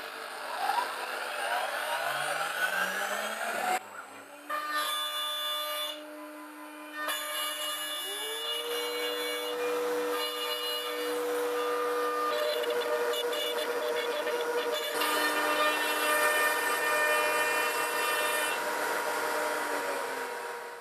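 A CNC router starts up and cuts a door hinge template into wood stock, its spindle whining as it ramps up, then a steady, fairly loud drone that shifts pitch as the bit moves through the cut, with no one talking.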